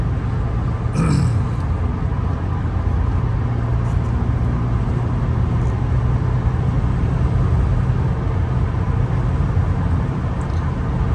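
A 2001 Nissan Maxima GLE driving on a city road, with steady engine drone and tyre and road noise heard from inside the cabin throughout, plus a brief throat-clearing sound near the start.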